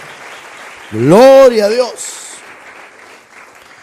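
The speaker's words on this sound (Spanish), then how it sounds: "Usted le podría dar palmas al Señor, una ofrenda de palmas con toda libertad." A church congregation claps as an offering of praise to God during a Sunday service, a steady wash of applause running under a loud voice that calls out in Spanish.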